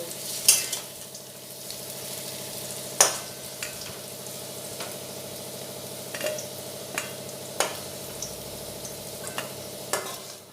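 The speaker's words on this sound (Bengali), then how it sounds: "দিয়ে বেশ ভালোভাবে লাল লাল করে আলুগুলো ভেজে নেব" Potatoes fry in hot oil in a pan with a steady close sizzle, punctuated by occasional sharp clinks of a spatula stirring against the pan, and no talking.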